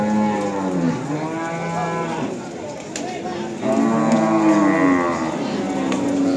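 Cattle moo at a busy livestock market in Tuban, with several overlapping long, drawn-out calls from nearby animals over a constant crowd murmur and background chatter.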